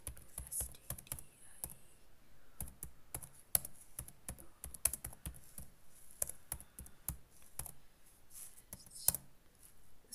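Code is typed on a computer keyboard in quick, uneven bursts of crisp key clicks close by, with short pauses between runs.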